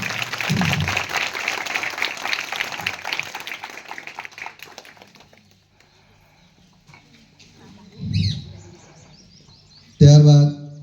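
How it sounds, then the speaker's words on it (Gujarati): A crowd claps loudly for several seconds to welcome guests at a school inauguration, then the applause fades to near silence, followed by a couple of short, louder bursts of noise. "જોરદાર તાળીથી વધાવીએ."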